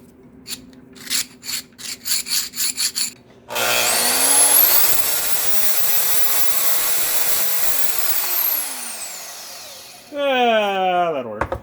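A small drill press with a 12 millimeter bit drills metal for several seconds, a loud grinding whir that spins up, holds, then winds down, with rhythmic scraping bursts before and after.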